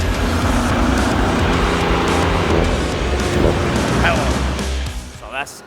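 A lorry engine runs steadily and loud on a dynamometer, a dense continuous drone held for several seconds, easing slightly near the end with a voice briefly heard over it.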